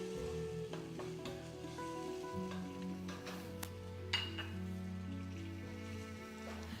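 Onion frying in a pan, a constant close sizzle with occasional soft stirring clinks and scrapes, and a steady low hum underneath, no talk.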